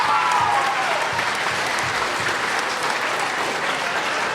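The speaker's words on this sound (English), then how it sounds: "Give them a round of applause." A theater crowd at a school district Veterans Day ceremony applauds warmly, a full, continuous roar of clapping that stays strong from start to finish, with a brief voice audible at the very beginning.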